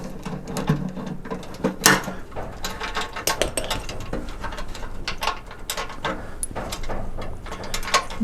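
A socket ratchet clicks rapidly and continuously as bolts come off a Harley Davidson Road King fuel tank, close metallic pawl ticking with brief louder bursts and clanks throughout.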